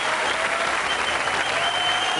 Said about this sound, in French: On applaudit ces 3 mannequins